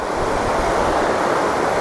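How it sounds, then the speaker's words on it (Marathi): Close, steady rush of ocean surf washing onto the shore at Varsoli beach, Alibag, continuous and fairly loud with a breezy hiss, no voices. "खूपच सुंदर अशा लाटा."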